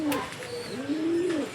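Yellow American fantail pigeons in a loft coo close by, one soft, drawn-out rising and falling coo with a faint chirp above it.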